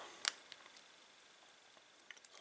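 Small metallic pin clicks from picking a beginner-level Abus or Burgwächter padlock: one sharp, quiet click near the start, then a few fainter ticks toward the end, close-up and with no talking.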